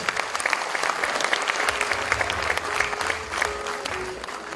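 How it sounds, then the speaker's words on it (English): An audience at an architecture panel discussion applauds the architects on stage, a steady round of clapping with a few louder individual claps and faint voices beneath. "give a huge round of applause for all the architects on stage"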